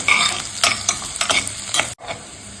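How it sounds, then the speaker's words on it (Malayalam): Cashew nuts roast in a hot pan, crackling and sizzling while a spoon scrapes and stirs them in quick bursts, close and fairly loud, then briefly cutting out before resuming. "അണ്ടിപ്പരിപ്പൊക്കെ ചൂന്ന് വന്നിട്ടുണ്ട്."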